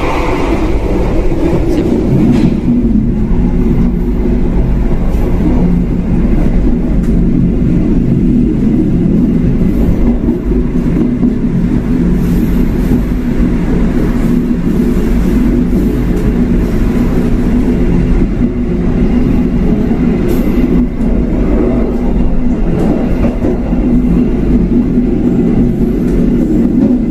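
A Jayakarta economy passenger train, a long rake of 2017-built coaches, rolls past on the rails with a steady, loud rumble and continuous clickety-clack of wheels over joints, sustained throughout without letup.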